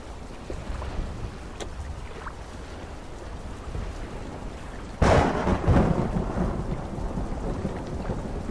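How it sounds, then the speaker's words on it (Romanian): A steady roar of rain and wind builds, then a heavy thunderclap crashes in suddenly and a louder storm rages over rough, churning sea waves. "furtuna abătându-se cu o forță violentă asupra lui"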